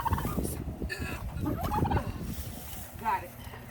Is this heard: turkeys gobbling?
yes